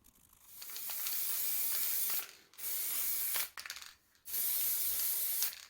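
Matte varnish sprays onto toy truck wheels in three long hissing bursts separated by brief pauses, close and fairly loud, with no talk.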